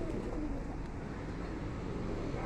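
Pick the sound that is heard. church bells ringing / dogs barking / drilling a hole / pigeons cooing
pigeons cooing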